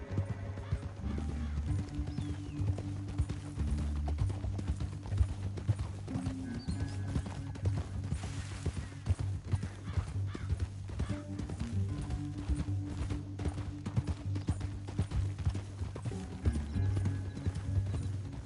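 Horse hooves clip-clop steadily through a video game scene, with occasional whinnies and neighs over a constant low musical and ambient bed, fairly loud throughout.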